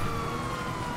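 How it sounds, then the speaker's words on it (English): Wailing police car siren in the GTA 5 Online video game, a brief steady tone held at moderate loudness over traffic rumble, with no talking. "Turn off the sirens."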